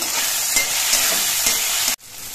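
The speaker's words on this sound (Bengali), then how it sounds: "পেঁয়াজটা নাড়াচাড়া করে বেশ লালচে রং ধরে ভেজে নিয়েছি। এবার এর মধ্যে একটা টমেটো কুচি দিচ্ছি।" Chopped tomato and reddish-browned onion frying in a pan, stirred steadily; a loud continuous sizzle with a few scraping stir strokes, cutting off sharply near the end.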